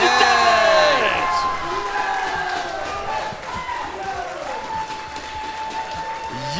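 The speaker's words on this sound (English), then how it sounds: "You can hear the crowd chanting." A crowd at a Tetris world championship roars and cheers loudly, then settles into ongoing noise and clapping while an excited commentator talks over it throughout.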